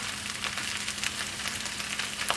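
Bean sprouts sizzle in a frying pan while fried rice cooks, a brief, soft crackling hiss with scattered pops and a faint low hum beneath.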